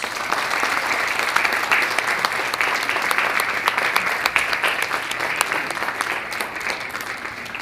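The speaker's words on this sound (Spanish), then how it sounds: "Aplausos para el doctor Méndez." An audience at a presentation of a book on university curriculum claps steadily, with a full, dense round of applause that continues evenly for nearly eight seconds.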